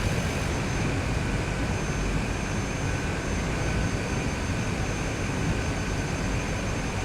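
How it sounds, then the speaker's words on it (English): A small propeller plane's engine in Microsoft Flight Simulator drones steadily at close range through a low off-terrain flight over Himalayan sand dunes, a constant loud broadband hum with no talk. "Let's do a little off-terrain ride with this little plane."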